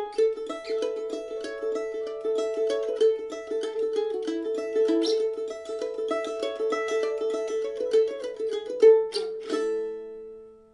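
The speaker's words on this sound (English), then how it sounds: "welcome to this advanced mandolin lesson where we're going to learn a cross-pick version of Goodbye Liza" Mandolin cross-picked through the fiddle tune Goodbye Liza Jane, a steady stream of bright plucked notes rolling across the strings with ringing drones, played solo and close.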